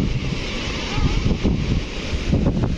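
Wind at Rajdari Devdari waterfall near Varanasi, a loud continuous rushing buffet against the microphone with a broad roar like surf, no voices.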